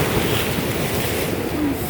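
Strong waves surging and splashing at a sea shore where people are trying to bathe, a constant loud roar of surf with wind buffeting the microphone, no speech.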